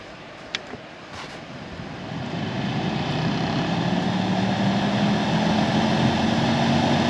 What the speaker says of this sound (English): the blower motor is nice and quiet now